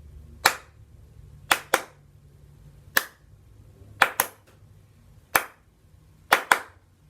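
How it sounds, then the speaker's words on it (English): Hand clapping in a rhythm pattern, sharp, close single and double claps in short groups separated by pauses, about a dozen claps in all, crisp and alone in a quiet room. "See if you can copy my clapping pattern."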